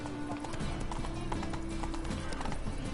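Roach the horse trots in The Witcher 3, steady hoof clip-clops running continuously and fairly loud, with a brief whinny-like tone and a dense game soundscape underneath.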